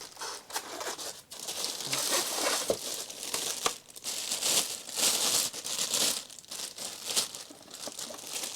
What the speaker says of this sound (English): It's been wrapped up in plastic, weighs literally nothing.